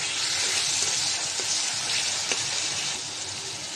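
Garlic and ginger paste frying with lightly browned onions in a pan for spicy baim fish bhuna, giving a loud, steady, close sizzle with a few faint stirring clicks and no talking.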